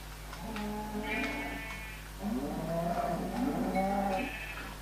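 Sheep in the video game Minecraft bleating in several wavering calls over a steady low background hum, moderately loud and close, with no talk.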